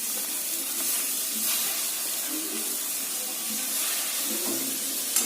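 Butter sizzles as onion and tomato fry in a pan on a gas flame for an egg and vegetable butter toast: a steady, close hiss with soft crackles throughout.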